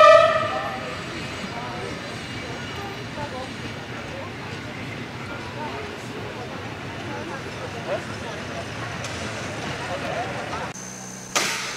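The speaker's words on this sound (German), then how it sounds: "Sonderfahrten mit dem historischen Zug, mit der Dampflok P8" A historic P8 steam locomotive hauls a special train lent by the Bochum-Dahlhausen railway museum at a Regiobahn festival in Mettmann. It gives a steady rolling rumble, ending with a sharp burst.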